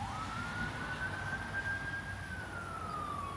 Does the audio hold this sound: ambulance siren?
yes